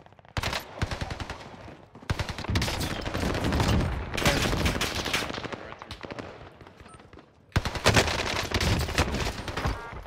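Rapid automatic gunfire from Call of Duty Warzone on the Rebirth Island map, loud bursts of shots coming in long dense strings with a short pause before a final burst.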